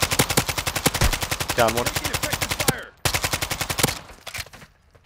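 Rapid automatic gunfire in Call of Duty, loud close bursts of evenly spaced shots that pause briefly and resume, with a player talking over the shooting.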